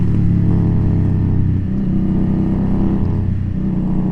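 An Indian Scout Bobber motorcycle rides along a road through Oak Glen. Its engine hums steadily and close by with a throbbing low drone, rising and easing slightly as the rider shifts and accelerates.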